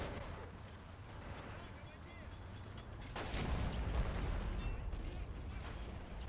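Heavy machine gun fire rattles across a battlefield in the Men of War strategy game, a dense, rumbling barrage of shots and blasts that swells louder midway through.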